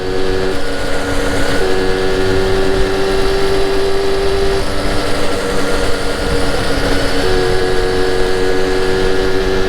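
A Solex 6000 moped, running again after about 30 years idle, drones steadily with a constant engine tone throughout, continuous and fairly loud with no talk over it.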